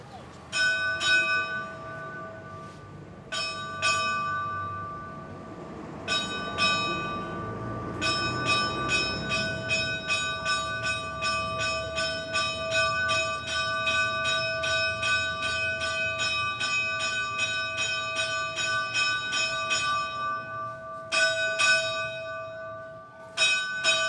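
A church bell in São Miguel do Gostoso rings in repeated bright, ringing strikes. A few isolated clangs come first, then a long rapid run of chimes whose tones linger and overlap, with faint background noise beneath.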